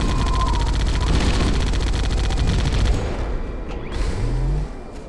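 Rapid, dense gunfire rattles through a Halo 1 battle, continuous and loud for about three seconds before thinning into scattered shots and rumble, with battlefield effects underneath.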